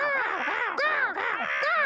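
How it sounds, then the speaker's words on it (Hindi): Cartoon crows in a Ninja Hattori episode cawing loudly and close up, with three drawn-out, wavering caws in quick succession and no gaps between them. "वो रहे कौवे"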